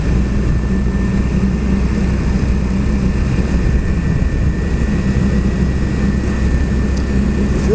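Steady vehicle engine drone while riding and picking up speed in third gear from around 20 mph, a continuous loud hum with wind noise and no talking.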